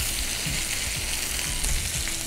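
A salmon fillet sizzling loudly in a frying pan just after being flipped, a dense, steady crackle of frying close up with no voices.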